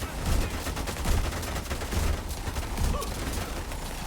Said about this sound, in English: Firing! Enemy taking fire!